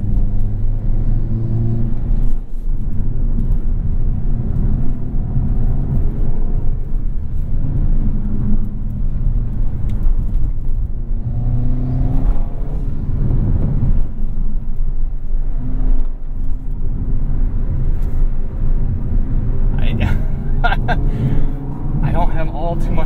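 A 2022 Hyundai Kona N hums along at speed, with a steady engine drone, road rumble and occasional revving swells heard from inside the cabin while a driver talks over it.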